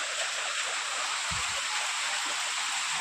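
Rain pours with strong wind at a chicken farm, a dense, steady wash of noise that holds without a break for the whole clip.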